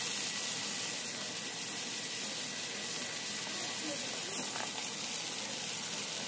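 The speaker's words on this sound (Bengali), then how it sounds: "এবার এর মধ্যে পেঁয়াজ ও মরিচ কুচি দিয়ে ভালোভাবে ভেজে নিয়ে" Chopped onions and chillies fry in hot oil for a shing fish curry, giving a steady, even hiss of sizzling that runs unbroken throughout.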